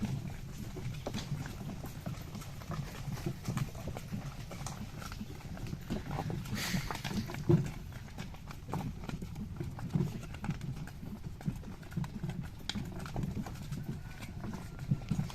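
Horse hooves clip-clop in a steady walking rhythm on a hard surface, moderately close, with faint rattling and ambient noise throughout, as horses haul boards.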